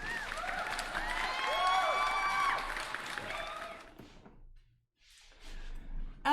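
Crowd applause and cheering from a card game stream, a dense sustained roar of clapping and shouts that swells, drops to a brief silence, then returns.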